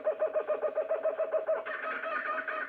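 A kookaburra call pitched down so it passes for a monkey, with rapid rhythmic hooting pulses that build into a louder, denser chattering burst, close and alone with no talk.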